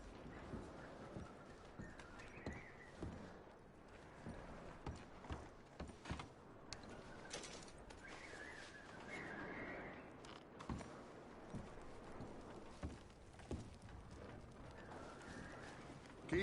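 Horse hooves clip-clop in Red Dead Redemption 2, a quiet, steady trotting rhythm of soft hoof strikes with faint mechanical clinks and tack noise throughout.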